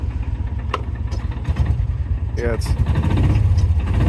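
A 1995 Kawasaki Mule KAF620A utility vehicle engine idles in summer sun with a low, steady chugging throb while a person speaks briefly over it, with a few clicks and knocks.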